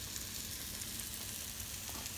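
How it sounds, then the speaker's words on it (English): Bell pepper and onion fry in a pan with a steady, soft hiss and crackle throughout. No one talks over the sizzling. "got my bell pepper and onion going"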